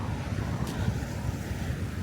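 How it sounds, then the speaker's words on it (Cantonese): Wind blows steadily outdoors, a constant low rumbling buffet against the microphone that lasts the whole moment without pause. "啊，係有風啊！今日正。"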